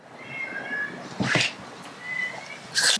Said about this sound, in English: Okay, there was a cat